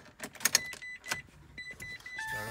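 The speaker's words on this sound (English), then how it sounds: "turn the car on" A Mitsubishi i-MiEV electric car is switched on, giving a few short electronic chimes and clicks with faint whirring in a quiet interior, and no engine roar.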